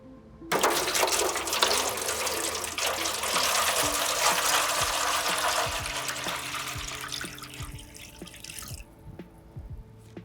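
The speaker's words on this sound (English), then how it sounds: "And our gallon of water." A gallon of water gushes from a container into a hydrogen peroxide mixture for reverse tie dye, a loud continuous pour that thins to trickles and drips before stopping.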